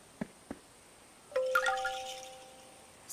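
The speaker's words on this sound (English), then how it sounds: "Is Zebby's doorbell broken? No. It's just too quiet." Two soft taps are followed by a quiet doorbell chime that rings out and slowly fades. A faint click comes at the very end.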